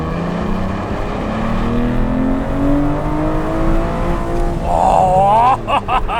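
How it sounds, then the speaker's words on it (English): Aston Martin DBS V12 on a wet road, engine note climbing steadily as the car accelerates with the wheels briefly spinning, close and loud, with someone talking over it. "it's spun the wheels, but listen to that V12."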